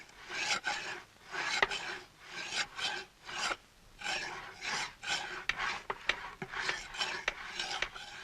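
Steel chisel rubbed back and forth on a sharpening stone, a rhythmic rasping scrape repeated roughly a dozen times in even strokes, close and fairly clear with no voices.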